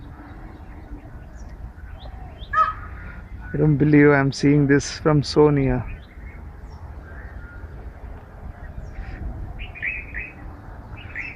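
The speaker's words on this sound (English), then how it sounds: "you're watching the beautiful peacocks at KBR Park" Peacocks at KBR Park give a loud, close burst of harsh, rising calls in the middle, with a few shorter cries nearby, while someone talks excitedly before and around them.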